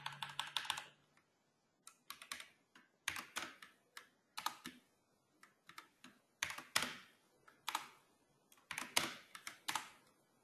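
Python code being typed on a computer keyboard, with bursts of close, crisp key clicks separated by short pauses, the rhythm uneven and stop-start throughout, no voices present.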